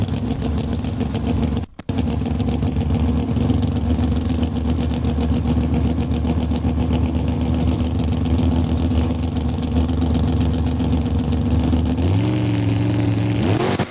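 Drag racing engines, among them an '84 Mustang in the Super Pro class at a Saskatchewan raceway, drone loudly and continuously, with a brief cutout early on and a rising rev near the end.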